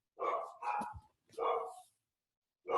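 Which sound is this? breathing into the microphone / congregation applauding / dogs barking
dogs barking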